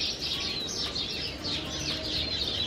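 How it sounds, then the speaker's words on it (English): Birds chirping outdoors as a steady chorus of faint, repeated high tweets and calls in the background throughout, with no talking. "The birds are chirping."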